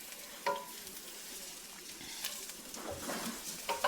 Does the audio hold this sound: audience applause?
no